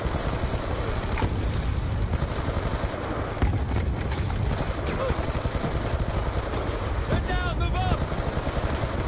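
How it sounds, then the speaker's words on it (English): Constant loud gunfire and chaotic battle noise in Call of Duty Black Ops 2, with dense overlapping bursts and explosions running throughout, plus brief ricochet-like whistles near the end. "That guy is shooting at me."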